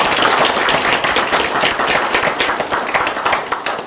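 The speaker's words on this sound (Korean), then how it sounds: "다시 한번 박수 한번 쳐드립니다" Sustained applause fills a church hall at an elder's retirement ceremony, a dense, even wash of many hands clapping together with no voices over it.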